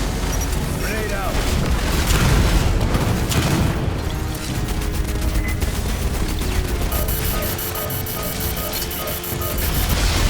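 Grenade blast in Aliens Fireteam Elite 2, a loud booming burst amid dense gunfire and clanking mechanical game noise that continues steadily for several seconds.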